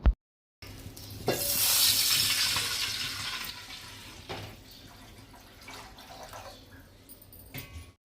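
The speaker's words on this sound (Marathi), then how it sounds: "थोडंसं पाणी ओतून घेऊया" Water poured into a pot of hot oil while making sabudana papad gives a loud hiss and rush, swelling quickly and then fading to a quieter sizzle, with a few faint clinks near the end.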